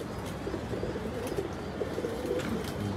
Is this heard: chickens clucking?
no